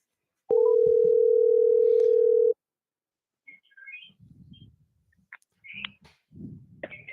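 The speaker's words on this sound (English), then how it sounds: "I'm going to dial this number that he just gave me" A telephone dial tone sounds as a steady hum for about two seconds before cutting off, followed by faint scattered clicks and quiet line noise.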